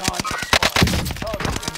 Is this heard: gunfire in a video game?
yes